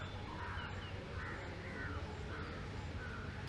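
Crows cawing near a school cricket ground during an under-19 match, a few harsh calls scattered over steady outdoor background noise, moderately distant and fairly faint.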